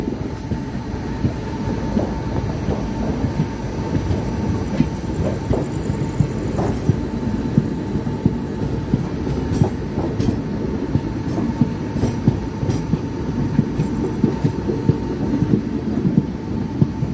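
Delhi to Pune Special Express crossing a bridge near Kopar Road station, heard from on board as a loud, continuous rumble with steady clickety-clack wheel beats and occasional faint squeals, with no talking.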